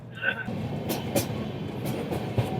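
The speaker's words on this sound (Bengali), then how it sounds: "দক্ষিণেশ্বর থেকে ট্রেন আমাদের চলতে শুরু করে দিয়েছে" A train, the Kanchan Kanya Express, rumbles along leaving Dakshineswar with low, steady rolling noise and occasional clanks, while someone speaks over the ride.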